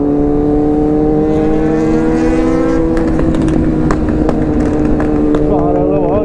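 A Kawasaki ZX-10R superbike passes on a city road at night amid other traffic, its engine note rising and then breaking into a scatter of sharp exhaust pops, loud and close.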